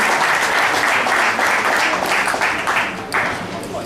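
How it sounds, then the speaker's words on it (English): A poker tournament audience gives a hearty round of applause for player Gus Hansen at the final table, dense rapid clapping that stays strong and then tapers off toward the end. "let's give a round of applause for Gus Hansen"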